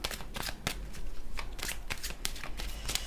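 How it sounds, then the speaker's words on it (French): Tarot cards being shuffled and drawn by hand, a quick series of crisp riffling and sliding card sounds, close and clear, with no talking over them. "Je vais prendre une dernière carte."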